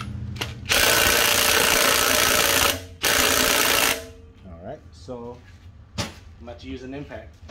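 Impact gun bursts removing motor mount bracket bolts from a Honda K-series K20/K24 engine: two loud sustained whirring rattles, the first about two seconds long, then someone speaks.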